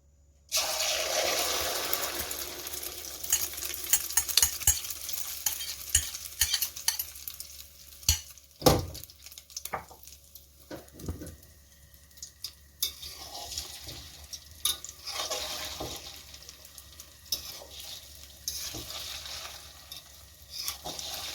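Egg omelette with glass noodles and vegetables frying in hot oil, a continuous sizzling hiss with scattered utensil taps and a few louder knocks, close and steady throughout.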